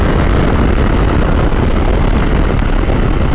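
A BMW F900 GS motorcycle accelerating hard, giving a steady, loud, dense roar of engine and rushing wind that holds without a break for a few seconds.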